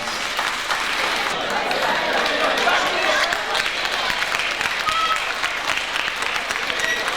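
Crowd at a carnival masquerade parade in Korčula, with steady, dense applause and clapping throughout, mixed with crowd noise and voices.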